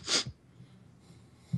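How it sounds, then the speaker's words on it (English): A sharp, close sniffle bursts out at the start, then fades to quiet breathing, and a second short snort-like sniff comes near the end during a podcast recording. "You got the sniffles, dude?"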